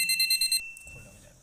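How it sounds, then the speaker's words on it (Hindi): A non-contact AC voltage tester pen beeping near a broken wire, giving five quick, high, evenly spaced beeps that stop abruptly, followed by faint handling noise. "तो देख लीजिए इधर तक ये बीप बज रहा है"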